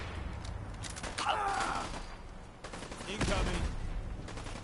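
Gunfire in the video game Fallout 4, bursts of shots and rapid fire mixed with game noise, loud and close, with a voice briefly calling out over it.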